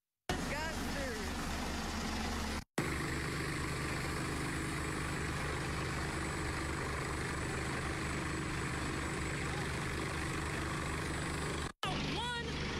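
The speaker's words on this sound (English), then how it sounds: "Not 1, but 2 helicopters." Two helicopters drone overhead with a continuous rotor rumble, joined by bursts of excited voices and brief dropouts in the recording, at a Houston police shooting scene.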